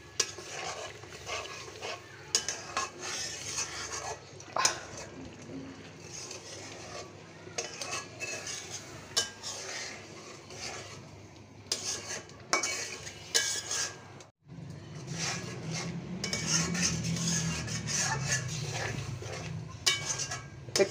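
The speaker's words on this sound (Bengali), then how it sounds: "চিংড়ি মাছ ভালোভাবে কষানো হয়ে গিয়েছে" Prawns being stirred and sautéed in a pot over a clay stove, with repeated scraping and clinking of a metal spoon against the pot over a low, steady sizzle, close by and moderately quiet throughout.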